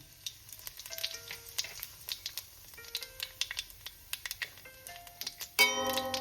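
Cumin, nigella seeds and dried chili spit and crackle in hot mustard oil in rapid irregular pops, with a few thin tonal clinks, swelling into a louder dense sizzle at the end.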